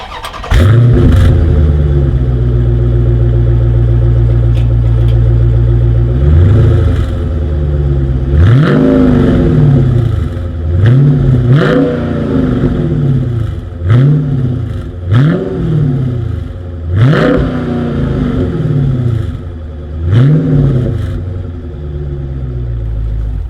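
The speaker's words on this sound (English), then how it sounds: "As always, here is that exhaust clip." A 2020 Dodge Challenger R/T Scat Pack V8 idles with a deep exhaust burble, then is revved repeatedly in sharp bursts that rise and fall, loud and close.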